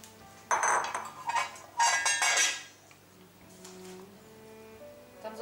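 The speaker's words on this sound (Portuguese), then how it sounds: "Estamos a usar a colher de pau" A wooden spoon works dough in a bowl for a nineteenth-century recipe, giving a few close, hard scraping knocks in quick bursts and then quieter rubbing.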